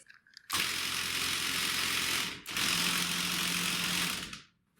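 A faulty Chamberlain/LiftMaster/Craftsman-style garage door opener motor strains to start, giving a loud, steady grinding whir that runs about two seconds, cuts out briefly, then runs again before stopping, with no talk.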